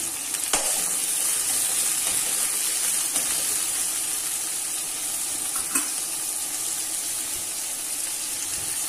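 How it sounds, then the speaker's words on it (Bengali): Chopped onion and green chillies fry in about four spoons of hot oil for a spicy egg masala Maggi, giving a steady, fairly loud sizzle with a few sharp utensil clicks. "এবার এর মধ্যে আমি পেঁয়াজ আর কাঁচা লঙ্কা দিয়ে দিচ্ছি।"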